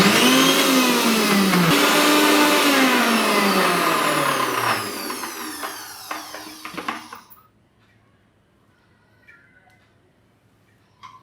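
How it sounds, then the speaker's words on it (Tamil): A Zenith mixer grinder blends boiled chickpeas with milk, a loud steady whirring motor that winds down over several seconds and stops, followed by quiet clatter. "இப்போ நம்ம வேக வச்ச கடலையை வந்து ஜெனித் மிக்சியில் போட்டிருக்கேன்"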